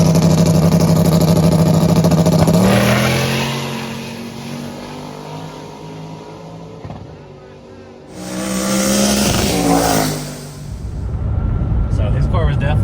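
Drag race cars at the H-town Throwdown event: engines roar and rise in pitch as they accelerate, fade, then another loud close pass surges through, with people talking over the noise.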